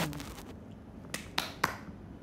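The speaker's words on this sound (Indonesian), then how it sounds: "Tepuk tangan." Three sharp hand claps ring out in quick, uneven succession, following a brief stretch of quiet background noise and standing out crisply against it.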